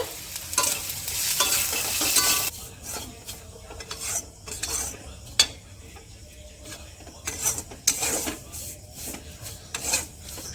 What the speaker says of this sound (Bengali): পেঁয়াজ কুচি দিয়ে ভালো করে একটু ভেজে নেবে